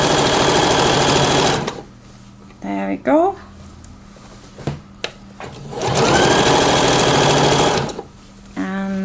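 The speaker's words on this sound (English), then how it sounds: "You can do a much better job on your sewing machine." A sewing machine whirs in two sustained stitching runs, close and steady, sewing a ruffle to a skirt, with a pause between where a voice speaks briefly and fabric rustles.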